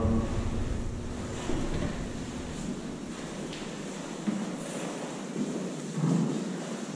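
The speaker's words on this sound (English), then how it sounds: "Just mop it on." Wet swishing and sloshing of a mop spreading water across an epoxy floor, steady and continuous, close by with no talking.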